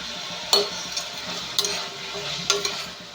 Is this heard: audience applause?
no